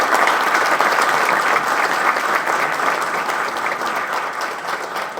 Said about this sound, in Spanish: Así que también démonos un aplauso por esa jornada del día de ayer.